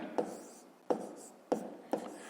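A pen writes numbers on paper in four short, distinct scratching strokes, each ending in a quick tail-off, close up with no talking.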